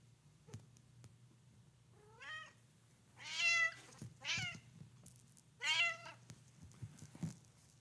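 A house cat gives a series of close meows, four drawn-out, rising and falling cries spaced over several seconds against a quiet room with a low hum.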